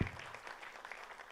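An audience at a Bhojpuri film trailer launch event claps for actress Madhu, a brief, faint spatter of applause heard from a distance, tapering quickly.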